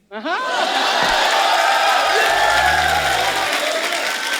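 A studio audience at a comedy talk show breaks into loud, sustained applause and cheering, a dense wall of clapping with whoops and a low rumble beneath it.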